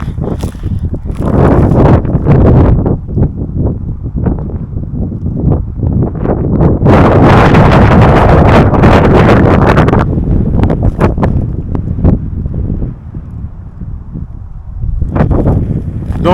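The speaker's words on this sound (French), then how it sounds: "vous allez m'entendre, il y a du vent." Strong wind on a hiking summit buffets the microphone in loud, rumbling gusts that rise and fall, peaking in a harsh roar midway before easing.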